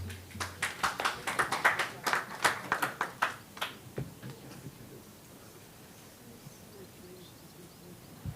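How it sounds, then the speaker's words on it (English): A small audience at a university roundtable event claps for the presenters: a few seconds of sparse, distinct handclaps that thin out and give way to near-silence. "Applause our presenters,"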